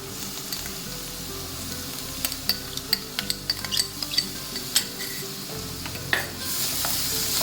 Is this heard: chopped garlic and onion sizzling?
yes